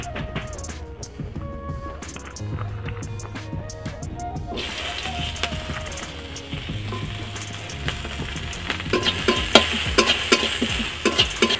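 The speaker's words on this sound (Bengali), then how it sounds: "তো আগে আমি এখন পেঁয়াজ দিয়ে দিচ্ছি।" Onions dropped into hot leftover hilsa fish oil in a kadai over a lit stove, sizzling and being stirred with scraping and clatter, the frying growing louder and busier toward the end.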